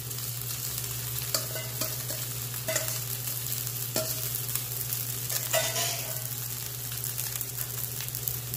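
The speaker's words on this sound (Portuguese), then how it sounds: "Agora, eu vou colocar aqui as 5 xícaras de arroz. Eu tô usando arroz branco." White rice stirred into sizzling bacon fat in a pot, with steady frying sizzle and repeated scraping, clattering stirs of a spoon against the pot, under a constant low hum.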